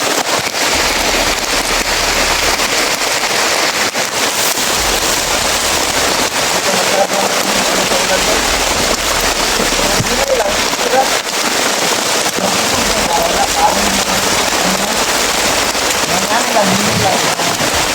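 Heavy rain pounds the surfaces all around in a dense, loud, unbroken hiss with scattered sharper drops, while voices talk faintly underneath.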